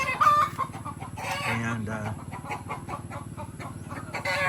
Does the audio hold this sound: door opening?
no